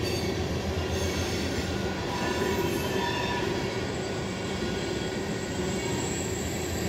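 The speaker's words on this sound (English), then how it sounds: "there's a Norfolk Southern climbing the hill over there" A Norfolk Southern freight train climbing a hill rumbles continuously and heavily, with wheels squealing faintly over the steady drone of the cars rolling along.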